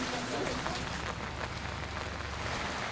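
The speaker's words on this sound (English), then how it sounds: "Back into the rain." Steady rain falls outdoors during a fall road trip in New England, a dense continuous hiss close by with faint voices mixed underneath.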